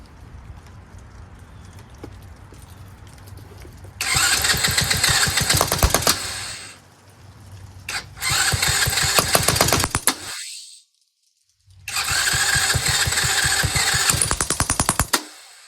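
A Tao Tao 125cc ATV quad on choke being cranked, with three loud bursts of rapid mechanical chattering as the engine tries to turn over, separated by quieter pauses and a brief silence, close up.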